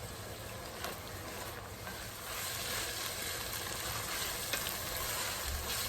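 Vegetables sauté in a pot for a Cajun seafood chowder, giving a steady, close sizzle and crackle of frying that swells slightly louder midway, with no talking.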